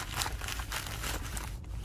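A drone bag for a DJI Mini 2 crinkles and rustles as it is unpacked, producing close, continuous papery crackles with small bumps of handling noise, quiet and without talk.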